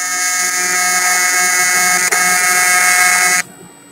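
An Everlast TIG welder puts out a steady, loud high-pitched buzzing hum while welding an aluminum radiator, holding constant for over three seconds before cutting off abruptly, with a faint hiss trailing after.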